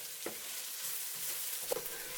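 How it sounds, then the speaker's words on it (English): Tomato paste and vegetable oil are stirred in a hot pan, faint soft scraping strokes with a light sizzle underneath, quiet and close. "add the tomato paste and 1 tablespoon of vegetable oil. Stir for 2 minutes."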